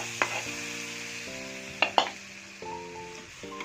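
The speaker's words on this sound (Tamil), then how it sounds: "சாம்பாரில் ஊற்றிக்கலாம்." Hot oil tempering of fried onion and asafoetida poured into a pot of sambar, giving a soft steady sizzle with a few sharp metallic clinks of a utensil against the pan.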